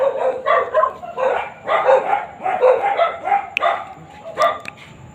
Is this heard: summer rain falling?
no